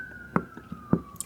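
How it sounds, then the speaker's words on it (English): A faint siren tone wails in the distance beneath a few soft knocks and taps close by. "sorry if you can hear a siren in the background."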